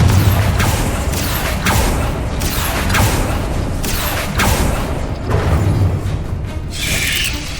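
Confringo blasting spell going off repeatedly in a video game, a series of sharp booming bursts arriving every half second or so over a dense, continuous rumble of game noise.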